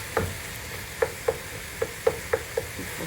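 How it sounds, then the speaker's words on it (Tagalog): Ground chicken cooks in a pan for spaghetti while a utensil stirs it, giving seven or so sharp taps at an uneven pace over a faint background sizzle. "Naluluto na ang ating ground chicken."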